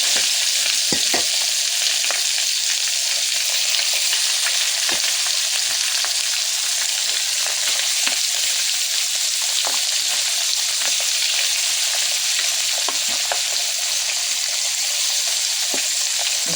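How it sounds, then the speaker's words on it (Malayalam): Flat sole fish (manthal) frying in hot coconut oil, a loud, constant close-up sizzle with scattered sharp crackles and pops throughout and no talking. "ഇപ്പോൾ വെളിച്ചെണ്ണ നന്നായിട്ട് ചൂടായിട്ട് നമ്മുടെ മാന്തലിട്ട് കൊടുക്കാം"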